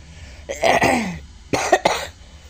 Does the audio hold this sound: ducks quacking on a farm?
no